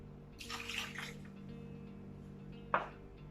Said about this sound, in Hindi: पुदीना नींबू पानी बनाने के लिए हम सबसे पहले ऐड करेंगे अपना नींबू का रस